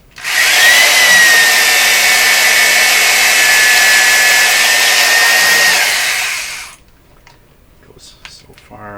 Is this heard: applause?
no